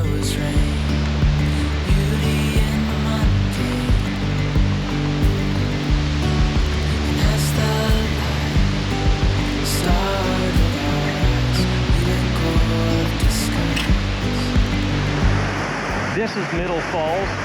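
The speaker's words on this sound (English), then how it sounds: "waterfalls, and this is gorgeous." Waterfalls in the Letchworth State Park gorge, a continuous heavy roar of cascading water holding steady throughout, with a few faint brief sounds over it.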